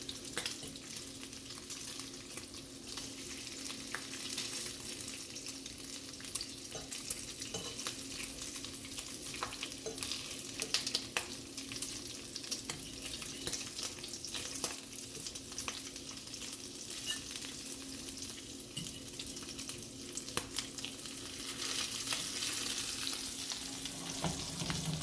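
Walmart low sodium bacon fries in a pan with a long, steady, fairly quiet sizzle and frequent small pops and crackles spread throughout, without any talking.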